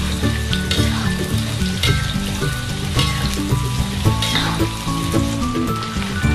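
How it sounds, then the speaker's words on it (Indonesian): Sliced shallots sauté in a generous amount of oil, giving a steady, loud, close sizzle and crackle with occasional stirring scrapes throughout. "Kemudian tumis irisan bawang."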